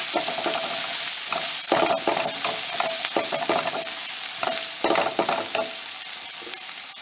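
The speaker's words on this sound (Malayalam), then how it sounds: "ഉള്ളി നന്നായി വഴിച്ചെടുക്കണം" Salted onions sauté in a frying pan for Kerala-style bread pocket snacks: a continuous crackling sizzle broken by repeated stirring scrapes, close and fairly loud.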